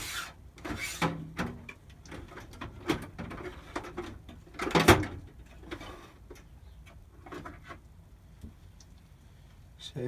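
A lathe steady rest with brass support fingers is picked up and handled in a workshop, producing scattered metallic clunks, knocks and scraping rubs, with one louder bang midway and quieter handling noise afterward.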